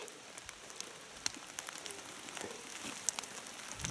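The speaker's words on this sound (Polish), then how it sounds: "deszcz się tak rozpadał" Rain falls steadily outdoors at a forest clearing where logging work is under way. Fine patter and scattered drops tap on nearby surfaces, soft and continuous, with no voices.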